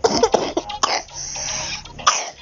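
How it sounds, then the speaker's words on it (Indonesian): A person coughs several times in quick succession, close and fairly loud, followed by a throat-clearing rasp and a final cough, with no talk. "Maaf, tadi aku lagi sakit batuk."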